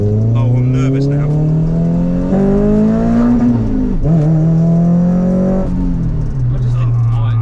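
A Renault Clio 172 engine drones loudly from inside the car while driving, its pitch climbing and dropping through several gear changes.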